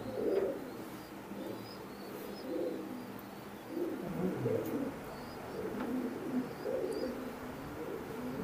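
Imported Teddy pigeons coo softly and repeatedly in low, burbling phrases close by in a quiet setting.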